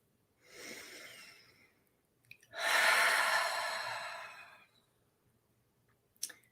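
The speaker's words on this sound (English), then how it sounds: "So let's take 3 breaths." Two slow, deep breaths during a guided relaxation: a soft inhale, then a longer, louder breathy exhale, close and otherwise quiet, ending with a brief click.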